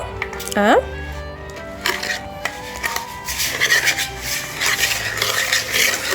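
Butter, sugar and vanilla are stirred in a bowl, giving close scraping and rubbing with light knocks of the utensil against the sides, while a voice talks over it.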